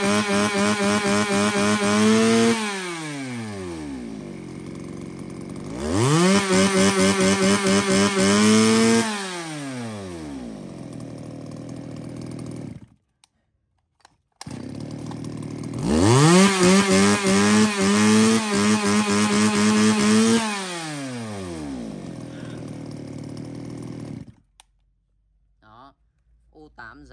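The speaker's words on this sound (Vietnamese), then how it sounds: "Rồi cuối cùng là một con máy cưa xích O9." A used Japanese-import chainsaw engine being revved, rising to a loud close roar and falling back in several long cycles with pauses between, while someone talks over it.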